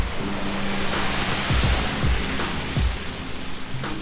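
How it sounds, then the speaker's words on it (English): A small river runs through a ford in Portugal, giving a constant broad rush of flowing water close by, with a few low thumps and gurgles mixed into the steady wash. "Over here is a nice little river that runs through"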